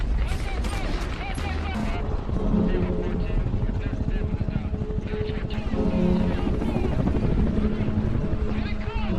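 A helicopter's rotor chops loudly under dramatic background music and effects, building and holding steady nearby, in a rescue scene from the war film Lone Survivor.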